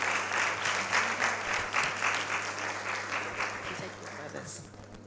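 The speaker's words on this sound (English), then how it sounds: "Keep the clapping going." Audience applause fills a breakfast meeting room at an Africa Prosperity Dialogues gathering, dense steady clapping that fades slightly toward the end, with a low hum underneath.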